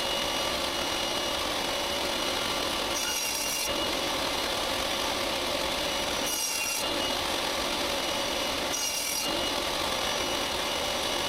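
A small piece is sawn off the top side of a wooden panel for a DIY serving tray: steady, close rasping saw strokes that stop briefly three times before carrying on.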